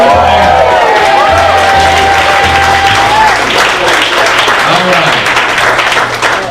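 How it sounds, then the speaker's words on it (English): Comedy club audience bursts into loud, sustained applause and cheering with whoops, a dense crowd roar filling the room throughout, with shouting voices rising above it. "Big round of applause for"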